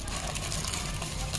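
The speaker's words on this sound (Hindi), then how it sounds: "ऐसे पानी भर दो" Water pours into a bowl in a brief, continuous, splashing gush that stays close and fairly loud from start to finish.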